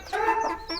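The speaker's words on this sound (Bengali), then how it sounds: "এই যে আমাদের দেশি মুরগিগুলো, এটা মাশাআল্লাহ বড় হয়ে গেছে" Native country chickens cluck close by in a short, clear burst of two or three calls, with no talking.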